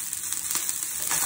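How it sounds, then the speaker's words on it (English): Purple tender-stem broccoli sizzling and charring in a hot pan, a loud, continuous close-up hiss with no talk. "I would want to char it on all the sides before I would go and change it."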